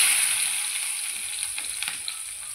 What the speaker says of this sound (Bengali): এবারে পেঁয়াজ দেবো।